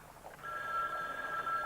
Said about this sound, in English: Take the phone off the hook, Turkey. You know who it is